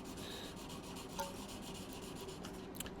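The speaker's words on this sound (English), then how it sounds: "This is like 1000 grit sandpaper." Fine 1000-grit sandpaper rubs back and forth in steady, quick strokes, a soft, quiet scratching hiss with no talking.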